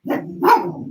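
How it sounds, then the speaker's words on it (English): Two quick dog barks up close, the second louder and sharper, with no talking. "Sorry, that's the dog."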